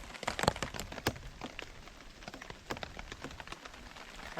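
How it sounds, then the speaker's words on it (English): Heavy rain drums on the roof of a camper van parked overnight by a loch, a dense patter broken by sharp nearby drips and cracks. "this rain's starting to get heavy again"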